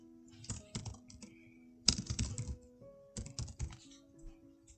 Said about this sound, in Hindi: इस ड्रॉप डाउन लिस्ट में जितने नाम हैं उनमें से कोई एक नाम यहाँ पे टाइप कर देंगे